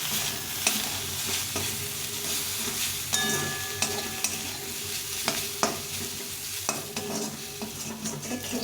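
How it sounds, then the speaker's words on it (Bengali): Leftover roti frying in a pan with tomato ketchup, a steady close sizzle broken by repeated scraping stirs and occasional utensil knocks, with no voices. "এখন একটু টমেটো কেচাপ দিয়ে দেবো, দিয়ে আর একটু ভেজে নেব।"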